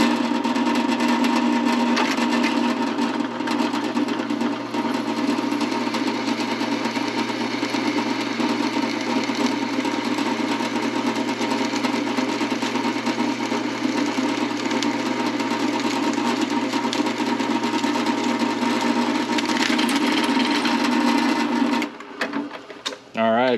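A drill bit bores steadily through 4130 chromoly steel for a race car chassis, giving a continuous loud motor whine and grinding cut that runs unbroken for over twenty seconds before cutting off.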